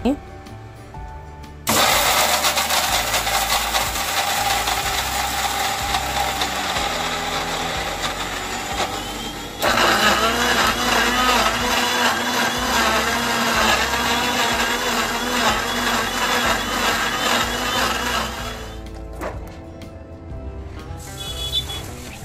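A kitchen mixer grinder runs loudly in a home kitchen, starting abruptly, whirring hard for several seconds, briefly cutting out, then running again before winding down near the end, with no talk over it.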